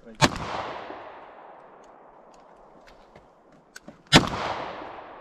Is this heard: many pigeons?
no